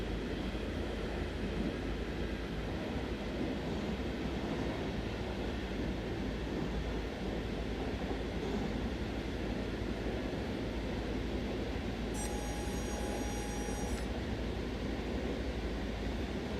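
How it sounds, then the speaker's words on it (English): Train engine and rolling noise from Train Sim World 3 on the Linke Rheinstrecke (Left Rhine) line: a steady, even rumble running unbroken throughout, with no talking. "If the train sounds too loud to me, let me know."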